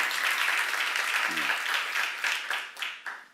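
A church seminar audience claps together in steady applause that thins toward the end, with a brief voice heard partway through.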